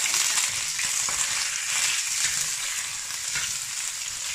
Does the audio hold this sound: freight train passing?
no